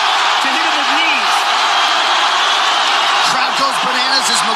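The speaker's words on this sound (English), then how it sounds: "Crowd goes bananas as McGregor gets upright" A packed arena crowd roars steadily at a UFC fight between Khabib and McGregor, a dense, loud wall of cheering with a commentator's voice talking over it.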